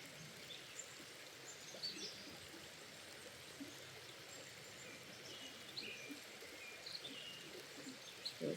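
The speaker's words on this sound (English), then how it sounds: "So it's nice to be able to sit here and relax and enjoy the creek." A flowing creek by a backpacking campsite in Pennsylvania, a steady soft babble of water with faint birds chirping now and then in the background.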